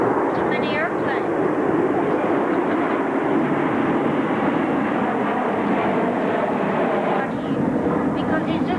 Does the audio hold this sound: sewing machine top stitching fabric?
no